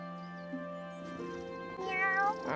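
A cat meows in the Wylde Flowers farming game, with a couple of clear, moderately loud mews heard alone over soft background game music.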